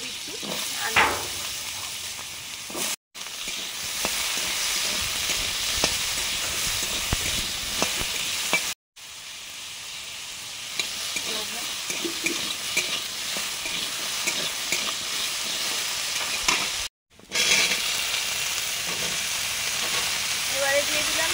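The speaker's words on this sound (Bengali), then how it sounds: "তেল দিয়ে পরপর সবজিগুলো দিচ্ছি।" Potatoes and vegetables fry in oil in a home kitchen, giving a steady broadband sizzle with frequent stirring scrapes. It runs close and loud for about twenty seconds, with three short breaks.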